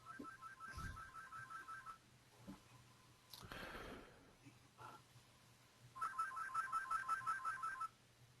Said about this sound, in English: my phone's ringing somewhere